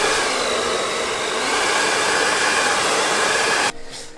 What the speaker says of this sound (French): la raison pour laquelle j'ai un sèche-cheveux dans mes mains